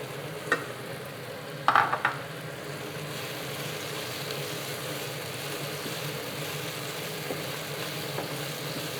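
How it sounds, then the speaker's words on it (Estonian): Garlic fries in oil in a pan while cooking penne alla vodka, giving a steady sizzle throughout with a few sharp stirring scrapes near the start. "praeme mõne minuti küüslauku ka"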